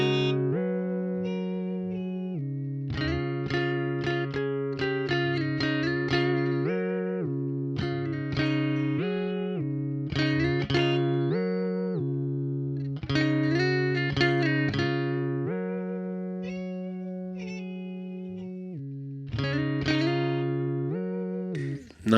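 An electric guitar played through a whammy-style pitch shifter pedal produces sustained, layered notes with octave-shifted harmonics. Chord changes are phrased continuously and loudly over about twenty seconds, with no talking.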